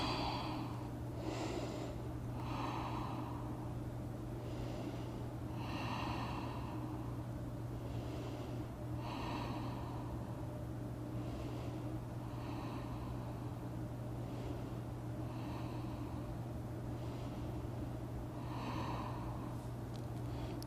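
Slow, steady breathing during a seated forward-fold yoga stretch, with soft airy inhales and exhales repeating roughly every three seconds over a low constant hum.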